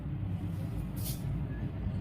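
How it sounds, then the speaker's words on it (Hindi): Steady low rumble of road traffic from passing vehicles, heavy ones like buses or trucks, with a short hiss resembling an air brake, sitting in the background of an indoor lesson. "गाड़ियों की भी आवाज आ रही है।"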